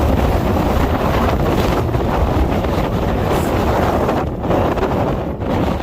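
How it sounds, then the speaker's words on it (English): Strong wind on a mountain top roars and buffets against the microphone in a constant, loud rush with gusty surges. "Holy, that's windy."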